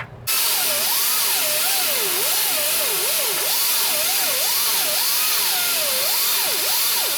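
A power tool cuts a notch into the steel frame rail of a 1967 Barracuda, a loud, continuous high whine whose pitch swoops up and down as the load changes, alone and close.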